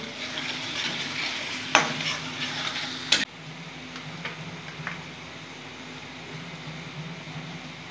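Turmeric being stirred into shrimp masala frying in a pan: a steady close sizzle with scraping stir strokes and a couple of sharp clacks early on, then a softer, even frying hiss.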